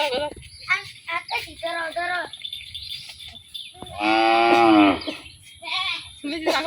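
A goat gives one loud, drawn-out bleat midway through, in a flooded rural area of Chittagong after days of monsoon rain. People talk before and after it.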